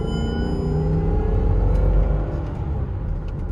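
A 2006 Range Rover L322 Supercharged accelerates hard, its engine a loud, steady, heavy rumble that builds and holds throughout.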